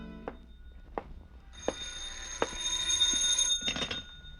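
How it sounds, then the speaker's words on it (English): A telephone rings in an old-time radio mystery drama, with sharp clicks and knocks before a bright bell-like ring that swells and trills near the end, without voices. "a phone ringing that came from the phone"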